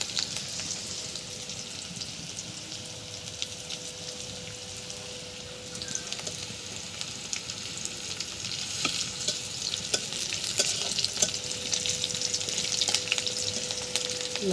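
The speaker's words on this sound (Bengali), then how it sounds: "কিছুক্ষণ আর একটুক্ষণ ভেজে নেব।" Chicken pieces frying in a pan while being stirred, a steady close sizzle with scraping stir sounds throughout, growing slightly louder toward the end, with no talking.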